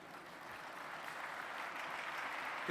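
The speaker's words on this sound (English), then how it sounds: "A huge round of applause." Steady, sustained audience applause at the G20 Interfaith Summit conference, held at the World Peace Dome, fills the whole stretch at a moderate level and swells slightly louder near the end.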